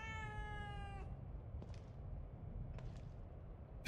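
A cat in The Evil Within 2 lets out a single drawn-out, plaintive meow near the start, followed by quiet ambience with a few faint clicks and a sharp noise at the very end.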